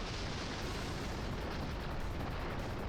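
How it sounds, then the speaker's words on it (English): A spell cannon fires in the fantasy role-playing game Growlanser, a loud, sustained roaring blast like heavy artillery that fills the whole moment with dense, rumbling noise and no speech. "Spell cannon."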